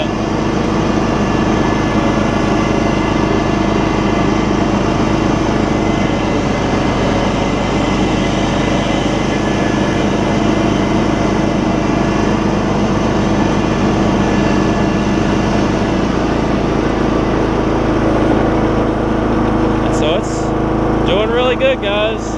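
A small engine, freshly fitted with a new carburetor and a cleaned-out fuel tank, idles smoothly and steadily up close for about twenty seconds, ending with a few light clattering knocks.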